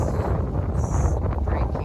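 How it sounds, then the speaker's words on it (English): Strong wind buffets a boat at sea at daybreak off Greece, heading toward Otranto, Italy, a steady roaring rush over the microphone with low rumble throughout. "This is how much wind since 4 a.m. in the morning."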